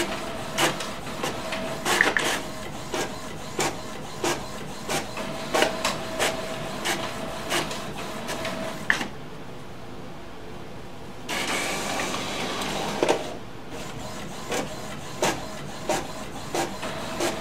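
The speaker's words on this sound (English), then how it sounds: "Now it's going to start scanning the next page." HP Officejet Pro 8620 printer feeding and scanning pages, with a steady rhythmic mechanical clatter of rollers and gears, a short quieter pause, then the loud whirring feed resuming.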